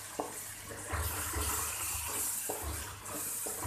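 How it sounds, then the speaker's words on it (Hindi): Water is poured from a container into a pan of spiced baingan bharta masala with garam masala and crushed red chilli, a steady close splashing that stops and starts in short pours, with no talking. "थोड़ा सा हम पानी डालेंगे इसमें।"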